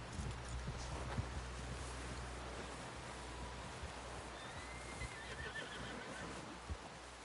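A horse in the video game Red Dead Redemption 2 whinnies clearly over a steady wash of ambient noise, with faint hoof sounds scattered underneath.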